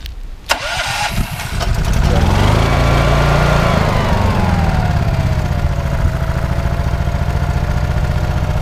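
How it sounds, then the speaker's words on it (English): A Honda portable generator is started at a cabin during a power outage, coughing briefly before catching and settling into a steady, even running drone close by. "those Honda generators, they run real nice and quiet"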